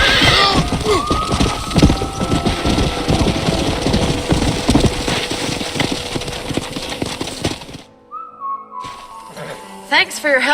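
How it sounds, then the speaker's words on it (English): Horses in Red Dead Redemption clip-clop in repeated hoof beats under a busy mix of game music and whistling, then drop out to near silence before brief sounds return. "We got some fine horses."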